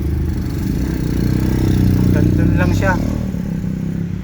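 A 2005 Hyundai GRX with a low-power fault and no error code rumbles close by, its engine swelling in a rev and easing back down, while someone talks briefly over the noise.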